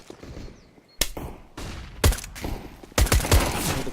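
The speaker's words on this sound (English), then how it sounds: "Straight out by Lookie's Glock burst" Glock burst fire in a Counter-Strike match, heard as three sharp, loud bursts of rapid shots about a second apart, each ringing out briefly before the next.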